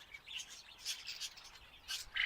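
Two Indian bulbuls chirping near a nest in an aviary, with faint, quick high tweets and short calls repeating in irregular bursts, one slightly louder call at the end.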